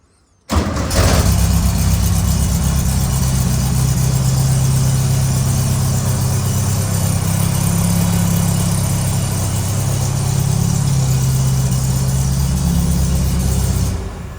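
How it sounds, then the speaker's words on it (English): An original 1969 VW dune buggy's 1500cc engine cranks and catches, then settles into a steady, rumbling idle that runs loud and close for over ten seconds. "I'll go ahead and fire up the car right here."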